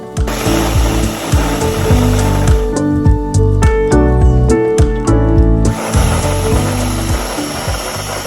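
An electric grinder whirs continuously as it grinds pink Himalayan salt with rosemary leaves, a loud close motor drone with a stretch of rattling, clattering grit in the middle and no talking.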